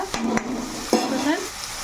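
Onions sizzle and fry in a pan while a utensil stirs them, giving a few sharp scraping clicks over a soft, steady crackle, close and brief.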